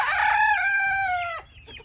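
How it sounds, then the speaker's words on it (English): A young Easter Egger rooster lets out one clear, close crow that fades away, with faint chicken sounds continuing softly after it. "It looks like we actually got a rooster and a hen there."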